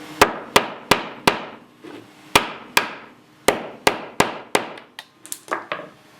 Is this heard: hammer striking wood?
yes